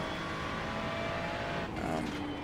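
Race car engine drones steadily in the iRacing sim, with a passing car's pitch shifting near the end as one car lets another by on cold tires; a voice is faintly present underneath.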